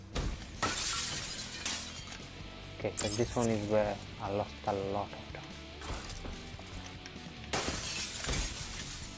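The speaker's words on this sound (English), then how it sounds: "This one I hate a lot because you just fucking smashed through glass." Glass repeatedly shattering and smashing in the Black Ops 3 freerun course Blackout, loud crashes and breaking bursts mixed with game effects while someone talks over it.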